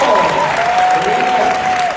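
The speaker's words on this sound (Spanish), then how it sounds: "démosle un aplauso por este concepto" Applause from a convention crowd at a health symposium, dense and loud throughout, with a faint tonal whine running underneath.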